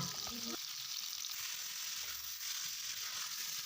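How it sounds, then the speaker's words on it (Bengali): Chicken pieces and potatoes fry in hot oil, a steady soft hiss and sizzle throughout, with a brief scrape of stirring at the start, quiet and close. "এখানে মুরগির মাংসগুলো ভেজে নিচ্ছি আর আলুগুলোও দেখো আমি এখানে আলুগুলো লাল করে ভেজে নিচ্ছি"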